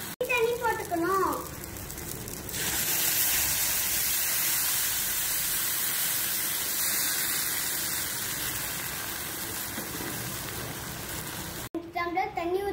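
Water poured into a hot pan while cooking a Tamil banana flower kuzhambu sets off a sudden loud steam hiss that holds for several seconds, with someone talking just before and after.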